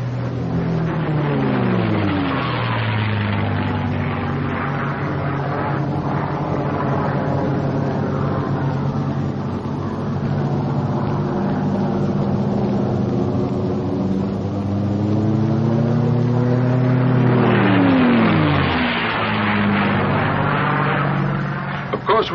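A P-51 Mustang propeller fighter drones loudly and steadily as it buzzes the airfield, the engine tone swelling and shifting in pitch near the end as it passes close.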